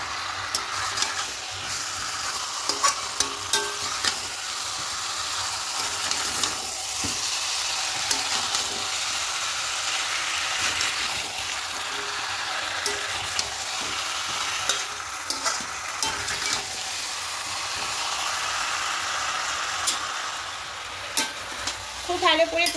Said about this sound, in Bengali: এবার আলু দিয়ে একটু হালকা কষে নেব।